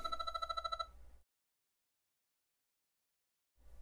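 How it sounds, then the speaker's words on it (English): A Pioneer AVH-EX in-dash car receiver plays a phone-call ringtone: a fast, bright trilling ring that stops abruptly, followed by a couple of seconds of silence before the ring starts again. "If a phone call comes in,"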